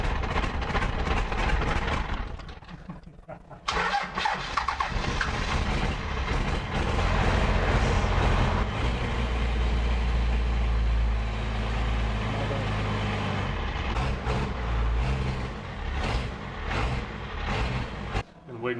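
A Cummins diesel swapped into a Jeep Wagoneer cranks, then catches and settles into a loud, rumbling idle that fills the shop, with people talking over the engine noise.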